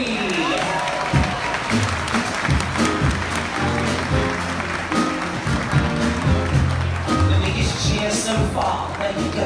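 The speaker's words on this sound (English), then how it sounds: "so please give them individually a round of applause" Audience applauding the Italian staff captain aboard the cruise ship Royal Princess, a steady, dense round of clapping held throughout with voices and music mixed in underneath.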